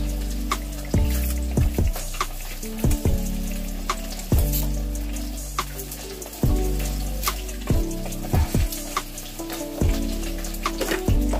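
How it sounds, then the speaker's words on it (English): Running tap water pours steadily into a kitchen sink as peeled vegetables are rinsed, with repeated knocks and bumps of the produce and hands under the stream, close and continuous without speech. "I'm going to peel them off and wash them first"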